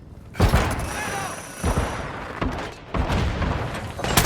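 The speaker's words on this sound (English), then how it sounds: "Grenade!" Explosions and gunfire burst out in the Call of Duty DMZ video game, several loud booming thumps spread across the moment, with players' voices talking over the combat.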